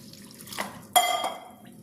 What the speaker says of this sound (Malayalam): അതിലേക്ക് ഞാനൊരു 1/2 കപ്പ് വെള്ളം ഒഴിച്ചു കൊടുക്കുകയാണ് കേട്ടോ